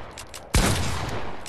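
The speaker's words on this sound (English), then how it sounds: "the shotgun stutter" Gunfire from a shotgun in Fortnite, played as a stutter move: after a quiet stretch, one loud sudden blast gives way to a dense, sustained burst of rapid shots and noise, with no talking.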